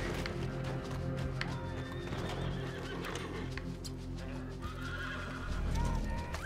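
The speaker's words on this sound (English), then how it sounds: "You guys have scared my horse." A horse whinnies loudly in the Red Dead Redemption video game. Steady hoofbeats and game ambience continue throughout, with a faint voice in the background.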